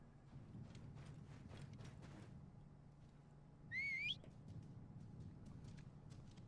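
A rising, warbling whistle blown to call a horse in Assassin's Creed Origins, one short burst standing out clearly over steady game ambience and hoofbeat-like patter.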